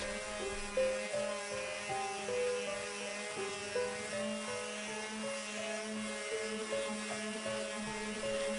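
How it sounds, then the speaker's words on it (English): An electric sander works across gesso on a painting board, giving a steady, close motor whine with a buzzing tonal hum that wavers slightly in pitch as it moves, running continuously throughout with no talk. "keep the sander moving in primarily circular or elliptical motions and to never focus on any one area for too long"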